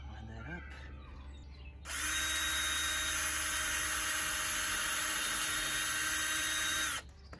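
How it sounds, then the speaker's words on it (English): A power drill driving a screw into pallet wood for an Adirondack chair, a loud steady whine lasting about five seconds after a short quieter stretch with faint talk and handling. "I'm going to drill from the outside, and we'll drive it in just a second here"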